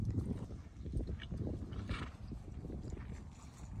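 Horse hooves clip-clop steadily as the horse is ridden on a snowy winter farm, a continuous low rhythmic thudding close by with no talking.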